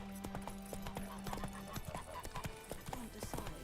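Roach the horse trots in The Witcher 3, steady clip-clop hoofbeats mixed with a faint whinny, quiet and close, with some speech under it.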